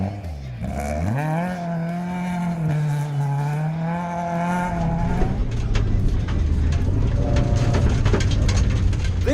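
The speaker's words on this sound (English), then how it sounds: "The Van Can Young pairing getting their classic Toyota through this demanding event." A classic Toyota rally car drives a demanding rally stage, its engine droning and rising in pitch close by, then turning rougher and louder with gravelly road noise for the remaining seconds.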